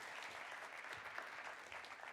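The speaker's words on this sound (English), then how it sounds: "Please give them a round of applause as they come as well" Audience applause at a European space conference in Brussels as panelists take the stage, a dense, even patter of many hands heard at a distance and fairly faint, continuing steadily throughout.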